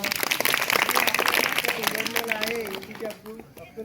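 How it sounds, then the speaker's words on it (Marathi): Applause for the APJ Abdul Kalam team of fifth-grade pupils at a school quiz competition in a Zilla Parishad school classroom: dense clapping loud for about three seconds, tapering off at the end, with voices mixed in. "एकदा 5व्या वर्गासाठी APJ अब्दुल कलामसाठी टाळ्या वाजवा"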